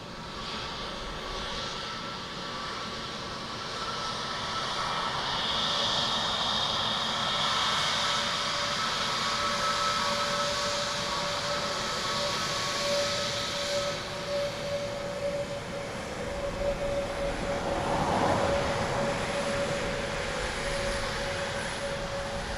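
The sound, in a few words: Aer Lingus Airbus A321neo airliner arriving from Paris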